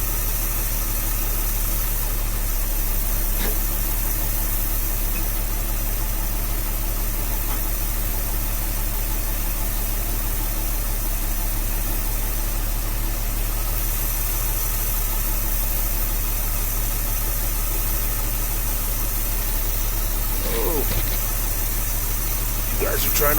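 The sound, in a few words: 1966 Dodge A100 van engine idling cold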